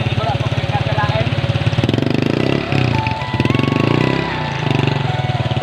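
Small motorcycle engine puttering steadily on a rough rural road in Negros Oriental, its rhythmic chugging loud and close throughout, with someone talking over it.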